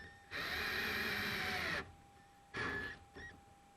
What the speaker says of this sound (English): So here we go, and we drill your first screw.